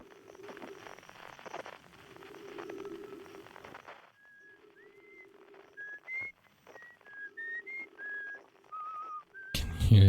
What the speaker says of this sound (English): Can you hear his whistling?